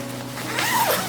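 A zip on a camping sleeping bag that opens out flat into a blanket is pulled open in one short, rising rasp over a faint background hum.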